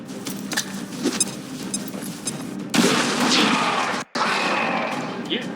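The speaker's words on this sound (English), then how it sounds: "Frag grenade on this Stun Lancer here to guarantee the kill." A frag grenade explodes in the video game XCOM 2, a loud, broad blast erupting midway and rumbling on, followed by a brief dropout and further noisy debris after quieter game sounds.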